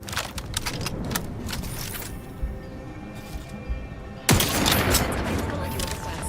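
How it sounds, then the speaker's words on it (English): Sniper rifle shots in The Outer Worlds 2 crack out as several sharp reports early on, then a loud blast near the end followed by sustained noisy rumble. "let's try the sniper rifle"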